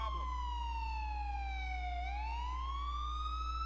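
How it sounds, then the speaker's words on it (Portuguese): A police siren in GTA IV wails steadily, its pitch sliding down and then rising again over a constant low hum, with no one talking. "já dá pra escutar lá de fundo a sirene ali"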